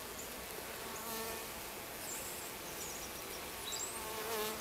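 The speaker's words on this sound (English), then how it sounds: "And she's surrounded by bees." Honey bees crowd around a queen while packages are hived outdoors, giving a steady, close, droning buzz that swells slightly, with no talking.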